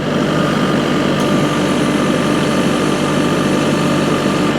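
A tractor engine idles steadily and loudly up close, a continuous even drone without gaps or changes in pace, heard alone with no voices.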